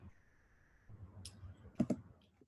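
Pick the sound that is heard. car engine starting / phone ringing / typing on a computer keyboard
typing on a computer keyboard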